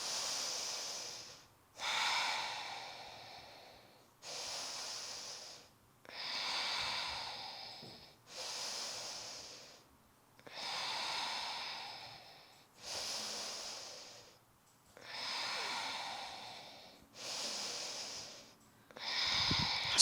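Slow, steady breathing during a held warrior two yoga pose, about nine deep breath cycles with long airy inhales and exhales and brief pauses between, close and clear, no talking.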